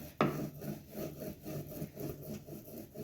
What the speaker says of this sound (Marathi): आता आपण हे बेलण्याच्या सहाय्याने छान असं लाटून घेऊया